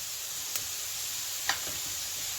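Chopped onion sizzles steadily as it sautés in a pan, giving a continuous bright hiss with a few faint clicks of stirring.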